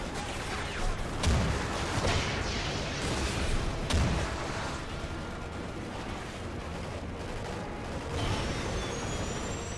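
Rocket launcher fire and explosions in the Call of Duty: Ghosts campaign, a dense wash of combat noise with heavy booms near the 1.3 and 4 second marks and a continuous rumble of battle throughout.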